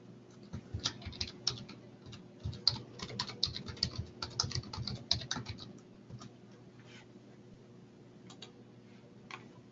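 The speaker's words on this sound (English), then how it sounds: "Go ahead and type in some text." Text is typed on a computer keyboard: quick, close clusters of light keystroke clicks that thin out into sparse, quieter taps toward the end, with no voices.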